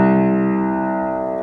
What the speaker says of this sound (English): To the left, we can produce a lower pitch or sound like this.